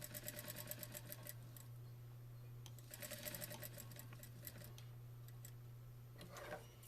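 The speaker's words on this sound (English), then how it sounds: "Now I'm just going to sew up until to the last pin and do my back stitch." A sewing machine runs in steady bursts of fast, even ticking stitches through throw-pillow fabric, finishing with a backstitch, heard close and alone over a constant low hum.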